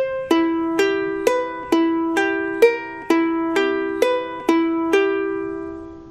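An eerie ukulele tune picked slowly, about a dozen clear plucked notes at a steady pace, each ringing and decaying before the next, played alone and close.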